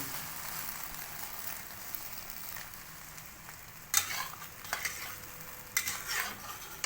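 An egg fries in hot oil, a soft continuous crackling hiss with a few sharper pops and utensil clicks toward the end, fairly quiet and with no voices.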